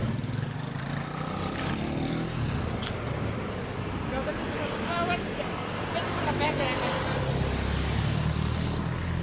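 Motorcycle engine running steadily at a small repair shop, mid-distance, with people chatting and laughing over the continuous mechanical drone.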